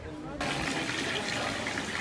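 Water pouring from a roadside spring water tap beside a waterfall, a loud, steady close gush that starts suddenly and runs on.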